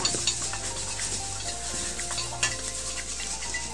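Ginger and garlic fry in coconut oil in a pan, giving a steady close sizzle with stirring scrapes and light utensil clinks throughout, no voices.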